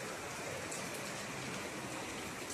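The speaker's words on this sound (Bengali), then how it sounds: "বৃষ্টি পড়ছে বন্ধুরা, বৃষ্টি পড়ছে দেখো।" Morning rain falls steadily outdoors in cool weather, an even, dense hiss of drops with no pauses or voices.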